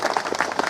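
An audience at a motivational seminar bursts into loud applause, a short, close flurry of many hands clapping together in a quick uneven patter.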